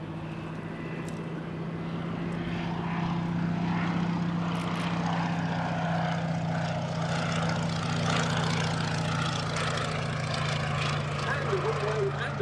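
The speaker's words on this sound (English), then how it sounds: "a slow fly past with the naval ensign flying from one of the rear crew positions" Fairey Swordfish Mk I biplane with its piston engine and propeller making a slow fly past at the Duxford Air Festival, a steady loud droning rumble throughout with a commentator talking over it.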